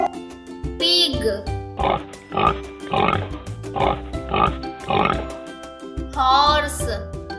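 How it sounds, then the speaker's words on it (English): Pig oinking for a children's farm animal names lesson, several short grunting snorts in a steady series, with a voice naming the animal at the start and end. "pig"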